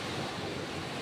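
Steady, broad wash of surf noise with a constant rushing texture, no distinct breaks, like waves rolling near a shoreline with some wind.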